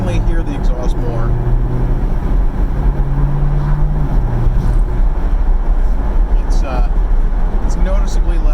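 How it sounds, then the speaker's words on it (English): A 2020 C8 Corvette with aftermarket headers drones steadily and loudly from inside while driving, its exhaust note a constant low rumble with rising and falling tonal hums. "can definitely hear the exhaust more."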